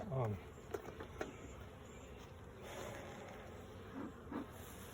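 Honey bees hum around the top of a start-up hive during its second inspection, a soft, steady buzz with a few brief louder passes near the hive, while a person talks over it.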